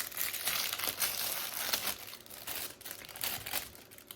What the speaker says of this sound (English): let me take it out of the packaging and show you because it's gonna be loud.